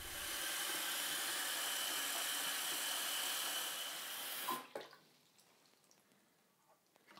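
Water runs steadily into a container for a waterproof test of a Lifeproof iPhone 6 case, a broad continuous pour lasting about four and a half seconds before stopping abruptly, leaving faint drips and small sounds.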